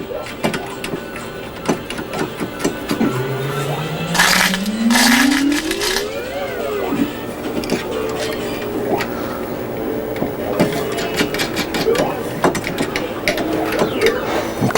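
A carriage bolt being tightened into an arcade cabinet's control panel during a Mortal Kombat II restoration, with ratcheting clicks and metallic taps plus a rising whirring sweep, close and moderately loud.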